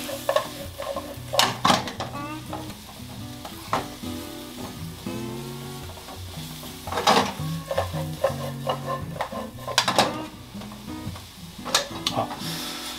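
Mushrooms and other ingredients sizzle in a pan with miso butter while being stirred, a steady close frying hiss punctuated by scraping and clinking utensil strikes against the pan.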